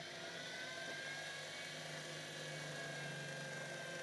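A drill bit bores slowly through silver metal lubricated with blade wax, giving a steady, close, high-pitched whine with a faint motor hum that holds without a break.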